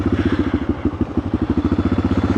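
An old Yamaha XT600 single-cylinder dual-sport motorcycle idles up close with a loud, even, thumping beat of evenly spaced low pulses throughout.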